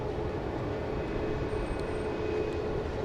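An airliner landing at Dallas Love Field at night gives a steady, dense jet engine roar with heavy low rumble, constant and fairly loud throughout, no voices.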